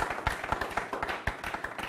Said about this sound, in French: Applaudissez très très fort pour cette équipe de Télé 50.